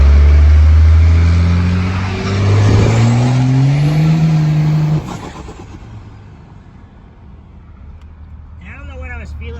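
A Cummins diesel truck fitted with big injectors accelerates hard, its engine roaring and rising in pitch through the first five seconds before easing off, with someone talking near the end.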